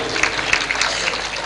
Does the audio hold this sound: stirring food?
no